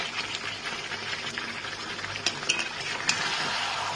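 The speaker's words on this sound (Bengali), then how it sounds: "মাংসটাকে আমি অনেকক্ষণ ধরে কষাচ্ছি।" Chicken curry with potatoes being stirred and sautéed in a pan, with a steady soft sizzle and scraping, a few clinks of a spoon against the pan standing out near the end.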